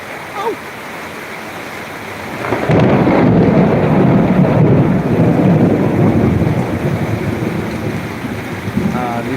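A low, steady roar of heavy night rain and rumbling thunder with lightning over a market swells up after a quieter start and keeps going, with no distinct crack standing out.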